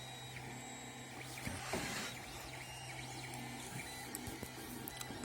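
A homemade coil winding machine runs with a steady low motor hum and faint whirring, with light mechanical ticks and clicks layered over it; quiet and continuous.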